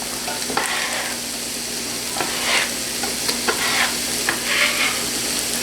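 Peppers, zucchini and asparagus sizzle in a pan with a bright, steady frying hiss, broken by several soft bursts and clicks as the vegetables are stirred and moved.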